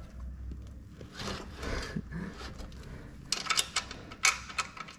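Metal bolt slid through a mini bike frame being reassembled, giving a run of close, light metallic clicks and scrapes that grow into sharper taps near the end, with no talk.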